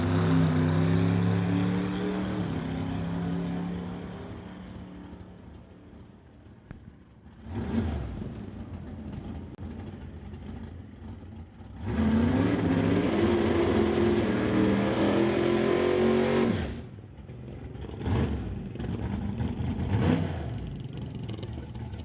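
A super street drag race car launches off the start line at the West Coast Outlaw Shootout, its engine roaring in loud bursts that swell, drop and return with a surge, then trail off against steady crowd and track ambience.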